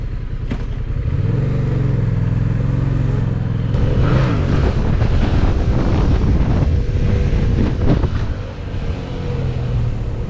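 Yamaha MT07 motorcycle engine revving hard during wheelies with a group of riders, a loud continuous roar that climbs in pitch midway, with heavy wind buffeting the microphone throughout.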